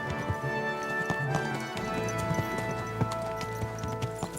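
A horse's hooves clip-clop along a town street in the video game Kingdom Come Deliverance 2, soft repeated steps under a steady ambient background with no speech.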